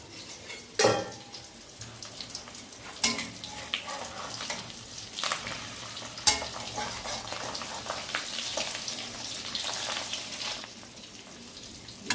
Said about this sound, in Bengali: ডিমটা লাল করে ভেজে নেব